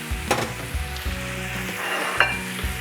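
Lardons for a salade Lyonnaise sizzle steadily in a pan, close up, with occasional clicks and scrapes as they are stirred.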